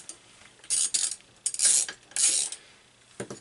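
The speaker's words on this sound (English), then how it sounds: "I actually got my ratchet stuck." A ratchet wrench clicks in several short rasping bursts while a Predator 212 small engine is taken apart, close and fairly loud with brief pauses between strokes.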